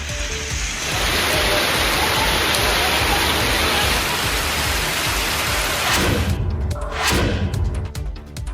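Steady, dense rain pours down at night for a sustained stretch, a loud broadband wash that continues throughout with a brief louder burst near the end.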